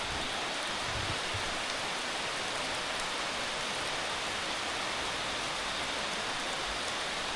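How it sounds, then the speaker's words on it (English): Steady rain pours down in a Sumatran rainforest, a dense, even hiss of drops on leaves and surfaces that stays loud and unbroken from start to finish, with no voices. "Nothing like a bit of rain in the rainforest to cool things down."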